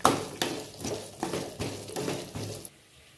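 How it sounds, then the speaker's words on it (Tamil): Shallots sautéing in a pan for a village-style mushroom masala, with a utensil scraping and stirring in regular strokes about every half second and a soft sizzle underneath, close and moderately loud, then quiet at the end. "சாம்பார் வெங்காயம் ஆட் பண்ணதுக்கப்புறம் இது நல்லா வதக்கணும்."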